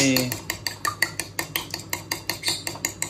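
Egg is whisked into pancake batter in a bowl with quick, even clinks of a utensil against the bowl, about four strokes a second, close and clear.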